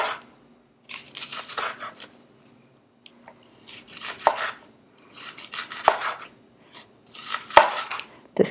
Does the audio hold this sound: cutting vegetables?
yes